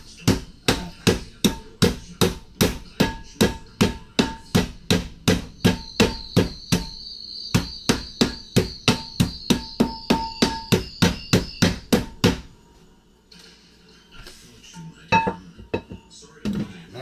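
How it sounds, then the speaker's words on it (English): Heavy cast iron pans clanking as they are pulled out and handled in a kitchen, a long run of sharp metallic knocks in a steady rhythm, close and loud, then stopping and giving way to quieter handling. "Time to pull up the cast irons."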